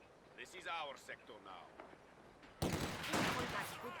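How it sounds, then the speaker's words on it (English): Sniper and other gunfire in a competitive strategy video game match: a voice at first, then from midway a dense, loud burst of rapid overlapping shots that carries on to the end. "Sniper getting some shots in here"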